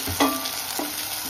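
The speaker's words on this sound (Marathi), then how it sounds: "आता आपण टॅमॅटो टाकू आणि तोही आपण तेलामध्ये मस्तपैकी परतून घेऊ." Tomatoes frying in oil with onion, a brief close hiss of sizzling punctuated by a couple of stirring scrapes.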